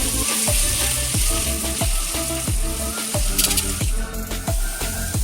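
Fish sizzles and crackles loudly in hot oil in a frying pan, frying until crispy, with a steady dense hiss broken by rhythmic spatters and occasional scraping as it cooks.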